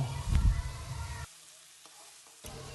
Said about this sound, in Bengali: এবার চিকেনগুলোকে এর মধ্যে দিয়ে দিয়েছি, দিয়ে ভালো করে এটাকে নাড়াচাড়া করে নেব।